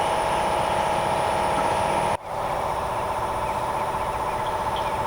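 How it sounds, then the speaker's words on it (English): Steady engine drone powering a rice polisher at a rice factory, a continuous mid-distance rumble with a brief dropout partway through before the running hum resumes at the same level. "I now know they are running the engine for the rice polisher"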